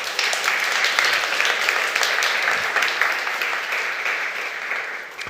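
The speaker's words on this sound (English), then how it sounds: "So they deserve a round of applause for that." Art talk audience applauding, a full round of clapping from a seated crowd that holds steady and then gradually tapers off.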